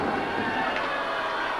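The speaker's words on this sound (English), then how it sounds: "did you hear the crowd reaction to that one? The fans loved it." Wrestling fans cheering at an indie wrestling show in San Be..., a loud continuous crowd roar that holds steady with no clear peaks, filling the arena after a chair shot.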